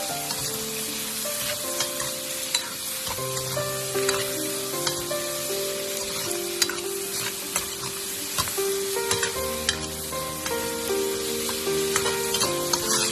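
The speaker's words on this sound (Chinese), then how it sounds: "将鸡肉炒香，炒出香味，把鸡肉里面的油脂煸炒出来" Chicken stir-fries in a wok with ongoing sizzling crackle and frequent metallic scrapes and clanks of a spatula on the wok, close and steady throughout.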